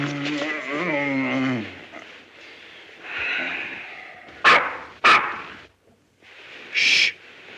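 A man in a 1941 comedy film mimics a dog, starting with a drawn-out vocal whine and then giving a few short, sharp bark-like yelps, close and fairly loud, with no real animal present.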